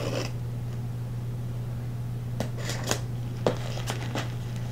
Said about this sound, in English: I'm just making sure to cut all the tape before I start trying to open it up like a Christmas box.